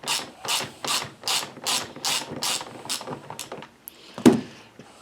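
A ratchet wrench clicks in quick bursts while bolts are removed from a McCulloch MAC 110 chainsaw during repair, nine or ten close, crisp ratcheting strokes in a steady rhythm followed by a single knock.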